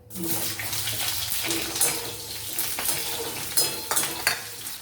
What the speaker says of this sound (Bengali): পেঁয়াজটা ভাজা হয়ে গেল